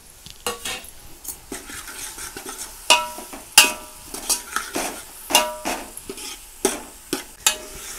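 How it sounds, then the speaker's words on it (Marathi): Onion fries with coconut garlic paste for a large batch of potato curry, heard as a continuous low sizzle punctuated by sharp, repeated spatula scrapes and clinks against the pan at an irregular pace; no voices. "तर मी कांदा टाकून घेते। कांद्याबरोबर ती पण पेस्ट छान अशी भाजली जाते।"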